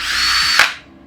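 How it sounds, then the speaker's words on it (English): A power drill fitted with a hole saw bores through a wooden table, a loud close whine that cuts off abruptly and winds down. "I'm going to drill through the table"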